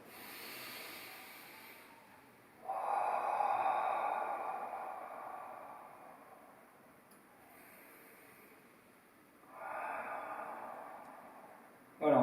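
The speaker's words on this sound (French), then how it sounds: "on rassemble les mains, on ferme les yeux et on fait 3 respirations profondes" A person takes slow, deep breaths during a Five Tibetans yoga routine. Long airy exhalations come at spaced intervals, separated by quiet pauses, with another breath starting at the very end.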